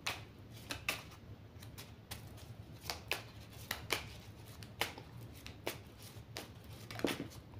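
Oracle cards are shuffled in a quiet room, giving a steady series of crisp, close riffling snaps and soft card slaps at a regular pace.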